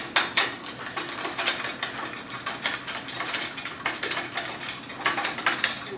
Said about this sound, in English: I'm just attaching them using nylon locking nuts